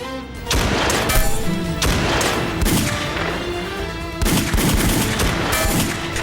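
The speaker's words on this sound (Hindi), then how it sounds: "भाई ये आदमी तो गोलियां बरसाने से रुक ही नहीं रहा।" Continuous gunfire from a building rooftop in an action series, dense rapid bursts of loud shots rattling without pause, close and harsh.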